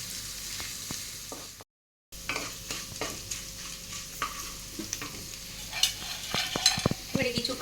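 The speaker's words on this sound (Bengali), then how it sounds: "কাঁচা লঙ্কা কুচনো, একটু হালকা করে ভেজে নিতে হবে।" Chopped green chilies frying lightly in a pan for Basanti pulao, a soft steady sizzle broken by a short silent gap, with scraping stir strokes and clinks growing busier toward the end; no talking.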